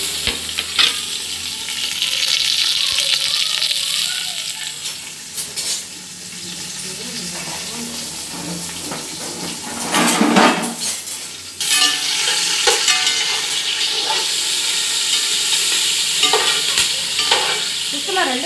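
Curry leaves, with chopped onions and green chillies, fry in hot oil for veg fried rice, a constant crackling sizzle with occasional spatula stirring and scraping against the pan, close and fairly loud, with no talking.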